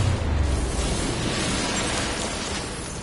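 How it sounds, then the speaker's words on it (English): Explosion in Batman: Arkham Knight, a loud deep boom that rolls into a sustained roaring rumble of debris, slowly fading. "I shouldn't detonate until I'm further away."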